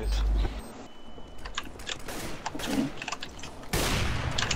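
Bursts of rapid gunfire from a CS:GO match crackle through a busy, cluttered mix, with a louder sustained volley near the end.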